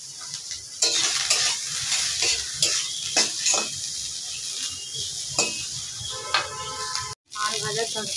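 Soya chunks fry loudly in a pan and are stirred with a utensil, giving a steady close sizzle broken by repeated scraping and clinking strokes.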